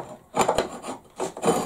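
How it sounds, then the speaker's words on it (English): A file rasps in short, uneven strokes against a metal part during deburring, close and fairly loud, with brief pauses between passes. "Just deburr it first."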